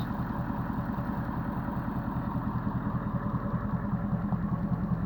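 A Ford Powerstroke 6.7 diesel pickup idles through a 5-inch resonator exhaust, giving a steady, low, rhythmic rumble that stays even and fairly quiet throughout, with no one speaking.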